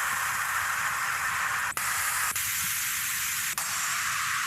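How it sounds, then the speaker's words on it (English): Broadband white noise used as a sound effect in a music track, a steady hiss across the full range that holds level throughout, with three brief sharp dropouts cutting through it. "Yeah, some white noise. White noise in the house."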